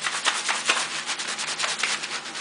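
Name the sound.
fingertips scrubbing shampoo lather on scalp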